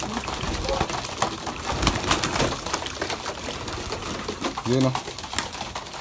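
Pigeons cooing while being fed probiotics, a low cooing burst near the end over a busy background of rustling and pecking, with a person talking throughout.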